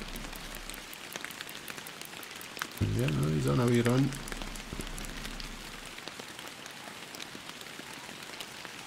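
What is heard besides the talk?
rain falling, from video game Fishing Planet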